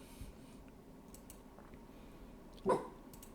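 A dog barks once at home, a single brief bark sounding somewhat distant and soft against low room noise, with no talking.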